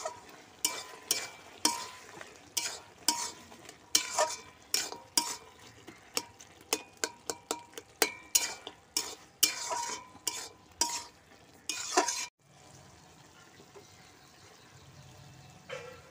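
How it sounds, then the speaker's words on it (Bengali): Spinach curry with bori is stirred in a frying pan, a spoon scraping and clacking in a quick, uneven rhythm of loud close strokes before it stops and a faint sizzle carries on alone. "বড়িটা দিয়ে দিচ্ছি, দিয়ে একটু ভালো করে নাড়িয়ে নামিয়ে নেব"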